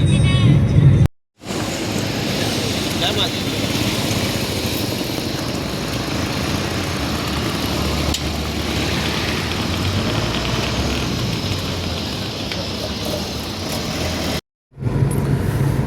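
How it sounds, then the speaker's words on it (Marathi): A car drives along the Kolhapur–Islampur road toward Kadegaon, its steady road and engine roar filling the cabin continuously, broken only by two brief dropouts near the start and end. "कोल्हापूर इस्लामपूर रोडवर आता कडेगावला निघालो आहे. इस्लामपूर ड्रायव्हिंग चालू आहे आता."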